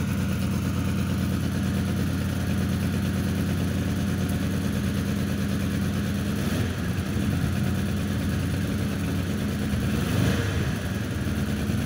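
A 1976 Citroën GS Club engine runs with a holed exhaust, a loud, steady, rough idle with a throbbing low rumble and raspy leak, close by, holding almost unchanged except for slight swells near the end, with no talk.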